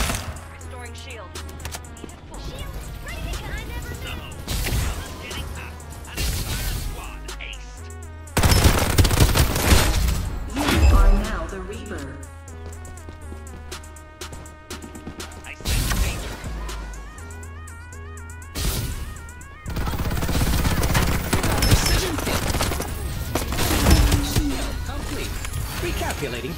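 Rapid MK.R gunfire in Farlight 84, repeated bursts of automatic shots separated by short pauses, loud and close, with a game character's voice lines over the shooting.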